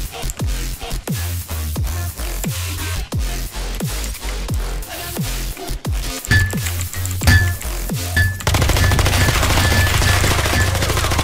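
Rapid gunfire from the video game Electric State, a steady stream of sharp, loud shots in quick rhythm, followed by a denser, buzzing burst of fire near the end.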